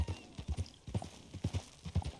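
Horse hooves clip-clop in a steady, rhythmic gait in the video game Red Dead Redemption 2, the thuds close and clear with no talking over them.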